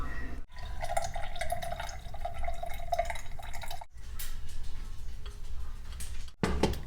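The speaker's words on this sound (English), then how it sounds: "I have to strain it to get out the little dandelion pieces." Simmered dandelion root liquid is poured through a strainer, giving a steady trickle and light dripping that runs almost continuously, with two brief pauses as the pouring stops and restarts.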